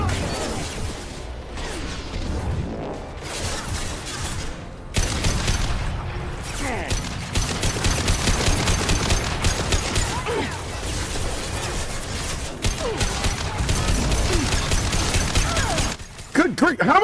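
Gunfire rattles in Mass Effect Legendary Edition: repeated loud bursts of shots and impacts crowd together with other game sounds for most of the stretch, with voices heard among them.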